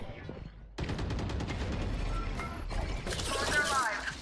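Gunfire in a VALORANT match, a busy run of shots and clattering weapon sounds that keeps going for about three and a half seconds after a brief quiet start.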